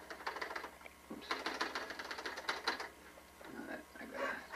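A manual typewriter types up a poem: quick bursts of close, crisp keystrokes with mechanical clatter, separated by brief pauses, with no talk.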